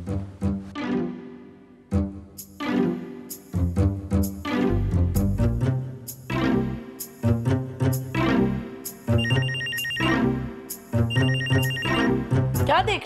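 A telephone rings repeatedly in a loud, steady electronic ringtone pattern, close by, continuing for several seconds with short pauses between rings.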